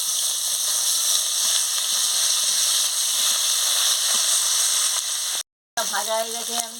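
Fish frying in a hot pan of oil in a home kitchen for a kalbaus fish curry: a steady, loud sizzle runs throughout, then a brief cut, and the fish is flipped as a voice speaks over renewed hissing.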